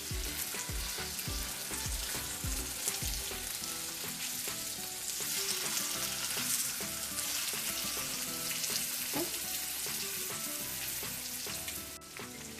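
Salmon with rosemary and garlic fries steadily in a pan, giving a loud, continuous sizzle and crackle that holds for the whole stretch with no talking.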